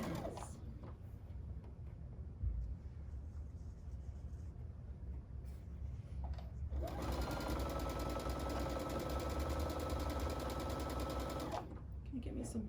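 A sewing machine stitching three fabric quilt sections together: quiet handling and rustling, then a loud steady motor whir with rapid needle clatter for about five seconds before stopping.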